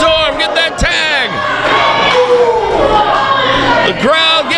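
A wrestling arena crowd cheers and yells loudly and continuously during a tag-team match as the referee counts a pin, with excited commentary talking over the roar.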